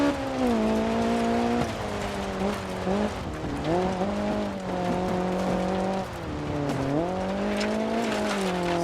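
Rally car in the DiRT 4 racing game, its engine droning loud and close with rising and falling revs as it shifts, tires skidding and squealing through slides on loose surfaces.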